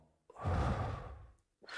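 A person takes one deep, slow breath during a calm breathing exercise, a long close airy inhale-exhale, then a brief pause before another breath begins.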